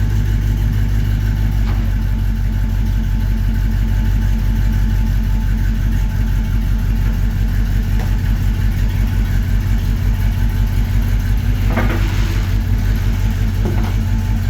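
A 1954 Chevy 3100 pickup truck engine runs steadily and loudly while driving, a constant low rumble with close, even throb throughout and a few faint knocks or clunks partway through.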